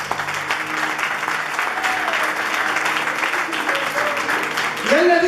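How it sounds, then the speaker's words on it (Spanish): Enthusiastic congregation applause during a Sunday church service, steady clapping throughout with voices and cheering mixed in beneath it. "Den un aplauso fuerte a Dios."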